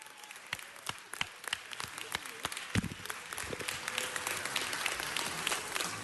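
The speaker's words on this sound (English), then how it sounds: "Let's give him a round of applause." An audience applauds after a Soul Train introduction; at first separate, spaced claps ring out near the mic, then they thicken into a fuller, continuous round of applause that swells toward the end.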